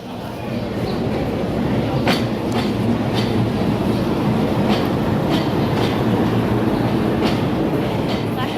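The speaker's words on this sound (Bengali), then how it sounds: "এটা হচ্ছে লোকাল ট্রেন।" A local train rumbles steadily past, a dense continuous roar with faint rhythmic clicking of wheels on the rails throughout.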